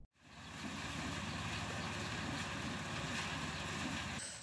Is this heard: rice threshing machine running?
yes